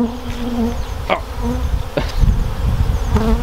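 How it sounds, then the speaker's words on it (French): Many honeybees at a beekeeper's hives buzz steadily and loudly right around the microphone, with a few soft knocks and thumps mixed in. "ça bourdonne tout autour du micro."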